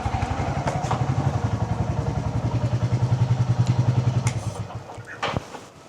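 A motorcycle engine idles and revs with a loud, close, rhythmic thumping pulse that holds steady for several seconds and then cuts off near the end, with no voices.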